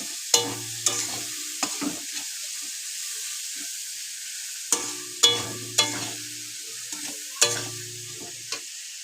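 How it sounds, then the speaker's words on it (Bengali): Onions browning in a pan for chicken biryani, a soft continuous sizzle punctuated by sharp spatula scrapes and clacks as the pieces are stirred, close by. "চিকেন যে রান্না করব সেটার জন্য পেঁয়াজটা দিলাম। পেঁয়াজটা লাল করে নিচ্ছি।"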